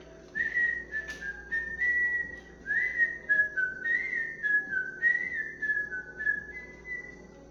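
A person whistles a lilting melody, clear and close, with short phrases separated by brief breaths; no talking.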